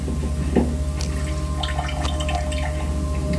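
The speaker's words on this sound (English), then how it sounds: "This is where I fill up water for storage." Water runs steadily from a tap into storage containers, a close, continuous splashing trickle with faint drips and a low hum beneath, no one speaking.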